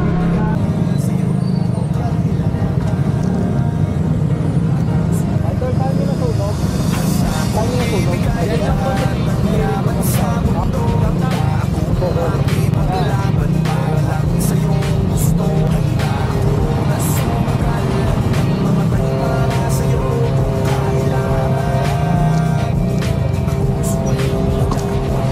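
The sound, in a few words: road traffic, cars in a traffic jam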